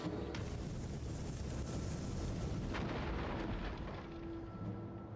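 Artillery fire in a Total War battle, a loud, rumbling boom followed by a sustained roar of impacts and debris that slowly fades.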